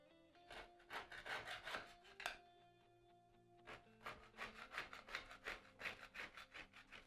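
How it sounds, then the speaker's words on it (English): Old paint and caulk scraped off a bathroom door frame: a quiet run of rasping, rubbing strokes in quick repeated bursts, with a brief pause partway through, close and fairly faint. "All I'm going to do is go along and scrape off any of this old paint,"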